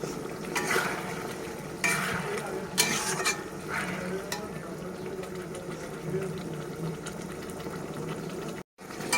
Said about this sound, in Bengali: সস দিয়ে একটুখানি আমি জিনিসটাকে টস করে নিয়েছি